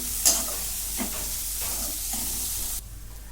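Cooked peas tipped into a hot frying pan and stirred for samosa filling, giving a soft close sizzle with a few scraping stirs, the hiss cutting out near the end, no voices.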